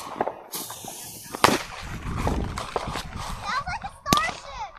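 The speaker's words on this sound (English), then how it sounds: "You guys won't really be able to see the explosions because they're small, but they're kind of loud." Small, loud firecrackers go off outdoors in pairs, sharp cracks popping close by with several separate bangs while people talk over them.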